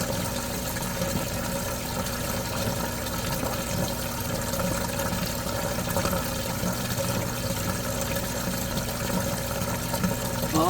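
Continuous droning pump pushing water through an RV washer drain line, water rushing and gurgling through the pipe, the tone staying even and fairly loud for the whole stretch.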